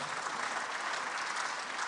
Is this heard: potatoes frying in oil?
no